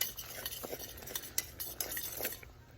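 A spoon stirs Chex Mix sauce as it boils in a pot, the scraping and light clinking of the utensil steady and close for a few seconds with no voices.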